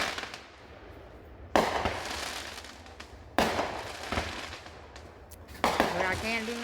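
Fireworks burst outside in three sharp, loud explosions spaced a couple of seconds apart, each followed by crackling decay, with faint background noise between them and a brief tonal sound at the end.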